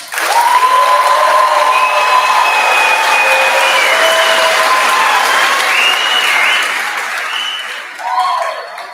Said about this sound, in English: Please give the 80 seniors on the stage to my left a warm welcome and round of applause.